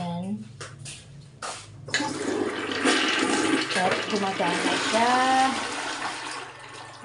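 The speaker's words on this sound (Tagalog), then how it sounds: "Ito yung flush." Household toilet flushing in a home in Cavite: a rising rush of water that swells and gurgles for several seconds while a person talks over it.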